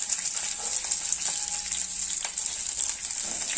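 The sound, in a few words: frying red chili, onion, curry leaves for neer dosa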